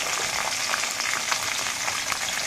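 Chopped onion sizzles in a pan with lentils while vangi bhath is being cooked, giving a steady, close crackle and hiss of frying with faint stirring.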